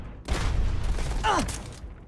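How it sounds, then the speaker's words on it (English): Gunfire in the space game Starfield: a dense, sustained burst of shots and impacts lasting more than a second, loud and close, with a brief electronic chirp near the end. "Keep putting bullets in him."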